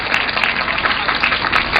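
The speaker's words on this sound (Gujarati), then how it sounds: "ફરી એકવાર આપણે તાળીઓથી એમનું આપણે સ્ટાર્ટિંગ કરીશું." An audience applauds to open a stage performance, a steady, dense wash of clapping from many hands that carries on unbroken from start to finish without any talk.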